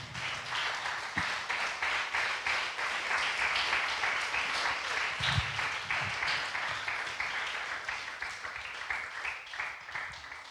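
A church congregation claps steadily during a Spanish-language sermon, a dense, sustained round of applause filling the room for about ten seconds with no talk over it.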